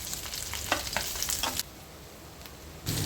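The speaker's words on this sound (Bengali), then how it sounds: "পাবদা মাছটা রান্নার জন্য পেঁয়াজটা ভালো করে ভেজে নিচ্ছি" Onions frying in oil in a pan give a steady sizzle with stirring scrapes and spatters. The sound eases midway, then swells again near the end.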